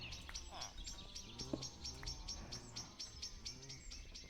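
Birdsong from a forest ambience recording plays steadily, with repeated bright chirps at an even rhythm over a soft background hum, moderately close and alone without talk.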